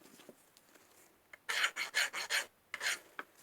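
A hand file rasps across the bottom of a machined metal part, a run of about six close, firm strokes in quick rhythm after a few faint scrapes.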